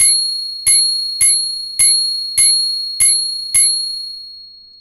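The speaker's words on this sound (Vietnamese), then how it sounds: "Quicycle có cái chuông bé tí hon nhưng mà kêu rất là to" A tiny handlebar bell on a Xiaomi QiCycle smart electric bicycle rings loudly and close, seven crisp metallic dings at an even rhythm, each ringing out and decaying before the next, with no other sound.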